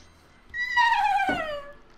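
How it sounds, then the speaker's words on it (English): A whinnying, neigh-like cry from the Mario Party 8 video game, a single falling wail about a second long, fairly clear with quiet game background. "It sounds almost like a neigh."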